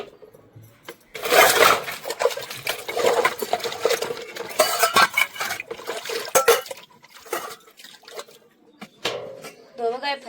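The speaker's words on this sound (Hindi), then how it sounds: "शाम की बासन बिलिया धो रहे हैं" Evening dishwashing of pots, pans and utensils, with clattering metal knocks, scraping and splashing water in irregular bursts, fairly close and loud, with a voice speaking at times.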